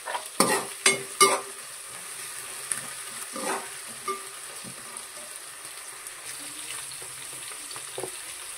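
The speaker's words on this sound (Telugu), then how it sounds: "కొంచెం వేగాలంటే బెండకాయలు వేసి కరివేపాకు, బెండకాయలు వేసుకోవాలి" Okra (bendakaya) with curry leaves frying in a pan: a few sharp spoon knocks at the start, then a steady hissing sizzle with occasional soft stirring scrapes, close by and without speech.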